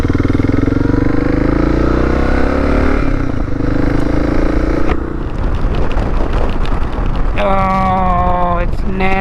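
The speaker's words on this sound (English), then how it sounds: "Oh, it's nasty. Jesus, this wind." Strong wind buffets the microphone throughout, a loud continuous roar with a running engine beneath it and a brief tonal whine near the end.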